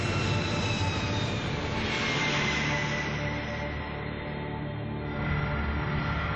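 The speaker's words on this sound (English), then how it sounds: "When the megaplane's four engines work together, they create so much thrust" The four jet engines of a Lockheed C-5 cargo plane run together as a loud, steady roar with a high whine on top, and nobody speaks.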